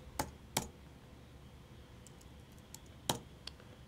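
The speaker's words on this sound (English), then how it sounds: "Type in anything you want." Sparse keystrokes on a computer keyboard while entering a password, a few soft isolated clicks with pauses between them in a quiet room.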